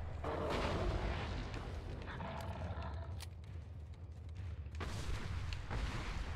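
Heavy booming gunshots from the video game Resident Evil 4 HD ring out, a burst at the start and another near the end, over low game rumble with some speech.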